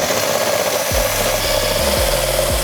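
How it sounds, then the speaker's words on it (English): A high, steady whine of a power drill grinding into an ice cube, with low thumps and pitch drops as the bit bites in. "you actually will need a drill"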